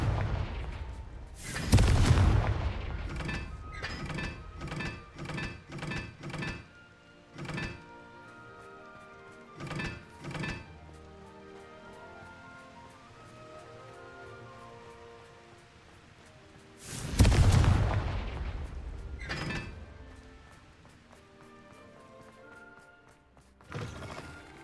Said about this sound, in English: Bombarda. Descendo. Confringo.